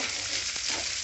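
Onions and slit green chillies fry in a pan over a medium flame, giving a dense, steady sizzle up close with a brief stirring scrape partway through.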